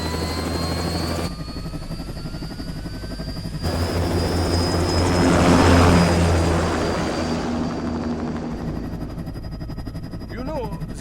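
In a Metal Gear Rising: Revengeance cutscene, a spaceplane takes off with a loud, continuous engine roar and a rising whine that swells to a peak midway and then eases, with speech over the engine noise.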